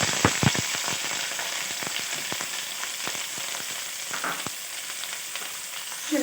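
Onions frying in oil left over from cooking chicken, a loud continuous sizzle close by, punctuated by a few crackles and spatula taps near the start, with no voices.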